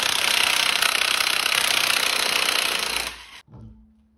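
An impact wrench hammers on the 22 mm front hub nut of a 2017 Chevy Bolt, a loud, close, continuous rattling burst of about three seconds that cuts off abruptly into a quiet hum.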